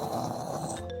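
A man imitates a loud, bellows-like snore with his voice: one short, rough, rasping burst that is close and fairly steady throughout.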